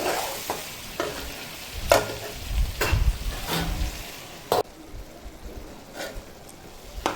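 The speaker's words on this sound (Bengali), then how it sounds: "আলুগুলো দেওয়ার পরে আমি আরো খানিকক্ষণ ঢাকা চাপা দিয়ে আমি কষিয়ে নেব।" Chicken and potatoes frying in a pan for Bengali chicken kosha sizzle softly under repeated loud scraping stirs of a spatula, several sharp knocks and scrapes against the vessel, close by.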